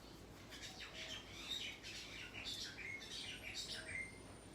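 Several birds chirp and tweet in bursts throughout, fairly faint and set against a soft outdoor hiss, with no talking.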